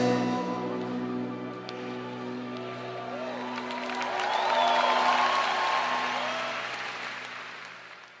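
Church audience applauds after a worship song sung in Spanish: soft, moderately distant clapping swells in the middle and fades, with a sustained musical tone underneath and faint voices.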